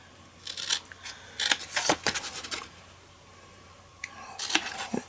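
Scissors snip through paper while Easter-themed gift box packaging is cut out, coming as clusters of quick, crisp close-up cuts with short pauses between them and no talking.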